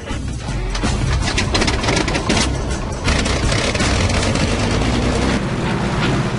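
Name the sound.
aircraft engine starting and taxiing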